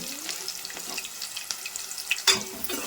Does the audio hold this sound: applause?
no